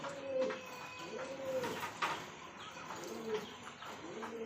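Pigeons at a pigeon farm coo in repeated soft, throaty rolling calls, several overlapping birds close by against a faint background hum.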